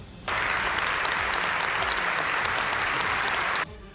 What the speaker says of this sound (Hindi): सभी सांसद एक साथ खड़े हुए और तालियां बजाकर उनका स्वागत किया